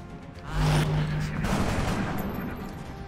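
A burst of gunfire from the strategy game XCOM Long War, a short rattling volley followed by a fading rumble, heard fairly quietly with a faint background hum.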